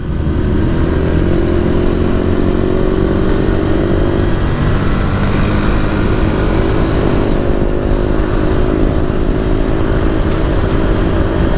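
A Honda RM250 two-stroke dirt bike engine and exhaust roar loud and close, a continuous buzzing rev that rises and holds steadily across the whole stretch with no talk.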